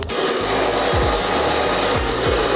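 A hair dryer blows steadily and loudly at close range while hair is styled during a skin fade haircut, with faint brushing and rubbing sounds beneath the airflow.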